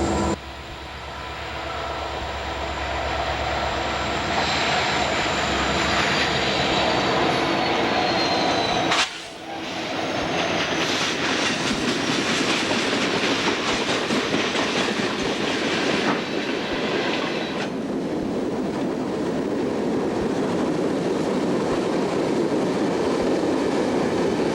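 A freight train led by a Union Pacific engine and hauling covered coil steel cars rolls by on the Pennsylvania Railroad's Broadway line, a loud, sustained rumble of wheels and clickety-clack with a brief dip before the cars keep pounding past.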